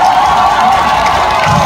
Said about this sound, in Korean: 앵콜인데 박수 한번 부탁드립니다.